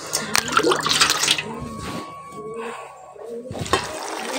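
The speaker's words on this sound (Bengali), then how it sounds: "এই যে সোয়াবিনগুলোকে এখন ঠান্ডা জলে ভিজিয়ে রাখবো" Cold water poured into a bowl of soybean chunks to soak them, a steady pouring splash that fades midway and resumes briefly near the end, close and moderately loud.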